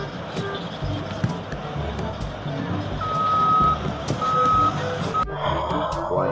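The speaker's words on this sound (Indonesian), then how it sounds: "Wah, kita mendapatkan truk tambang." Reversing beeps from a toy mining truck, a steady electronic tone pulsing from about the third second, rising over a busy mix of toy motor whirr and clatter, with a sharp change near the end.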